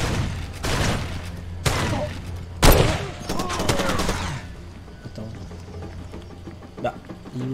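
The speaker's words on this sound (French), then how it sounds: "J'ai pas compris d'où venaient les tirs." Gunfire in the video game Far Cry 2 aimed at the player: several sharp bursts of rapid shots with a heavy crack in the middle, then fainter scattered shots over low background rumble.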